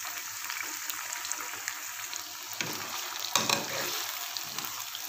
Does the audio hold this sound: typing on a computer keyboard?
no